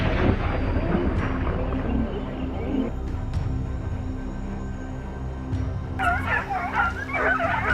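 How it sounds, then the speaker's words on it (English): Hunting dogs bark excitedly in a forest during a wild boar hunt, a steady run of overlapping barks and yips at close to middle distance, with louder high-pitched yelps near the end. "Their relentless barking echoes through the forest"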